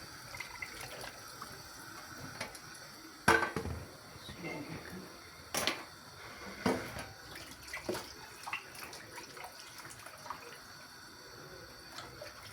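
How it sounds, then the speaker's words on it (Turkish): Sheets of pastry dough for su böreği are lowered into a bowl of cold water, giving soft, scattered splashes and drips, a few sharper sloshes standing out, while a person talks over the sound. "Soğuk suyun içerisine alıyorum"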